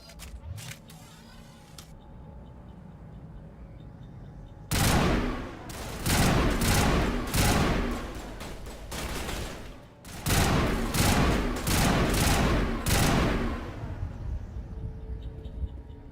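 Sniper rifle fire in Mass Effect arrives as loud, close bursts of sharp cracks with short gaps between volleys, after a quieter stretch of game ambience.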